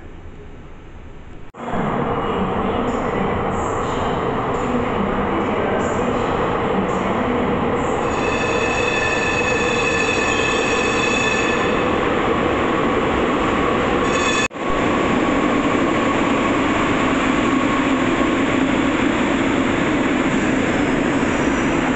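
An F-Market street trolley arrives in San Francisco, a loud rumbling railcar with sustained high metallic wheel squeals and screeching as it rolls close past, continuous with a brief break and no talking.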